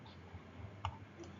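One soft, brief mouse-button click sounds in an otherwise quiet room while a computer is being operated, with faint background hiss before and after.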